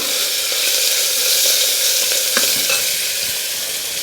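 Garlic and ginger frying in hot oil while being stirred: loud, close, continuous sizzling with occasional scraping stir strokes and no speech.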